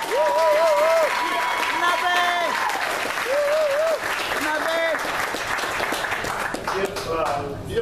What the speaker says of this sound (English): Can I get a National Black Wall Street round of applause for everybody in the room?